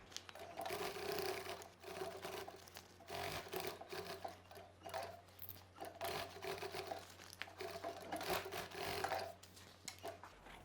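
A sewing machine runs close by, stitching the lining of a mini backpack in short, uneven bursts with rustling fabric handling between them, quiet and continuous throughout.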